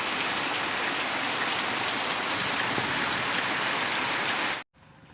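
Steady, dense rain falls on surfaces around a house in a hill village, a continuous loud hiss with pattering drops that cuts off abruptly near the end.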